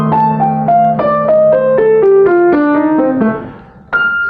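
A jazz piano plays a slow descending sextuplet run, each note distinct and ringing over a held bass, close and clear, ending in a single struck note after a brief pause.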